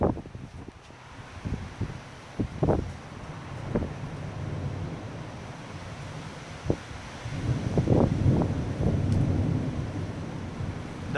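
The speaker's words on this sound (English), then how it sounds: "There's some thunder," Thunder rumbles through a heavy Dallas, Texas rainstorm with strong gusting winds, several low booms and cracks rolling in at irregular intervals over a constant wash of wind and rain, no voices.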